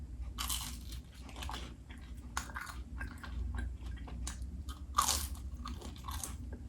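Crunchy bites and chewing of Domino's cheeseburger pizza dipped in ranch, close and loud, with sharp crunches at the start and a strong bite near the middle, no talking.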